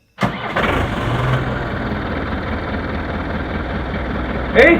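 A camper van engine cranks and catches, then settles into a steady, loud idle rumble, with a brief sharp sound near the end.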